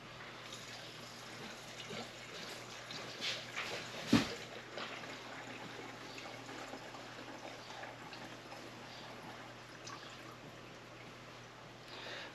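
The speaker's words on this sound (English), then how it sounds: "Now we'll flush it with some regular gasoline." Regular 40:1 two-stroke gasoline mix is poured to flush the fuel tank of a Husqvarna 372XP chainsaw, giving a soft, steady liquid trickle with a brief clunk partway through, heard close up indoors.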